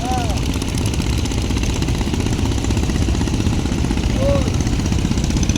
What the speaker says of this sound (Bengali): আপনার ছোটো ছোটো ট্রলারগুলো এতভাবে স্পিডে যাইতে আছে